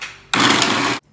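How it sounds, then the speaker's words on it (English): A blender whirs loudly for under a second, a dense burst that starts abruptly and cuts off sharply, heard up close in a home kitchen while sesame oil and other ingredients are blended. "And then just turn on the blender."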